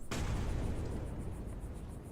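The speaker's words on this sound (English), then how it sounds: "We're gonna blow the thing up." Explosion in the Wild West video game Rosewater: a sudden blast that opens with a sharp crack, then a dense, roaring rumble that stays loud and steady through the short clip.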